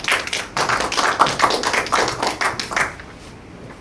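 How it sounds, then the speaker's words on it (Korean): Audience applause at a village education forum in Goesan, a short burst of steady, fairly close clapping that fades toward the end, with no talking. "박수로 모시겠습니다."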